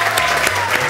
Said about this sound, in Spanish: Un aplauso para Manuel